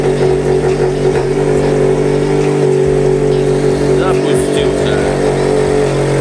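A rebuilt 2.4-litre Mitsubishi Lancer X engine with sport camshafts runs for the first time, a loud, steady idle with a strong, even hum close by and slight rises in revs.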